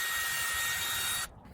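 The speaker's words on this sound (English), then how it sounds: "I have a small 5/64 inch drill bit. I'm going to be making a pilot hole right about an inch from the" A small drill with a 5/64 inch bit whirs steadily at high speed while boring a pilot hole into fiberboard near its edge, then stops abruptly.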